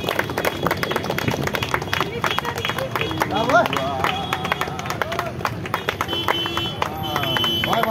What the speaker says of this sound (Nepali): ताली बन्द गरिदिनु होला